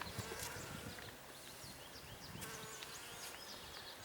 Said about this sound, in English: There's one bee around me trying to sting me.